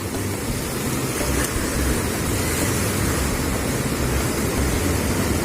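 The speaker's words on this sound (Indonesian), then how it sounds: "Pantai Cidatu lumayan luas." Surf at Cidatu beach in Pandeglang, Banten, rolls in as a steady, loud wash of broadband noise, continuous and without distinct breaks or voices.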